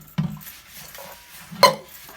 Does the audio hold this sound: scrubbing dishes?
yes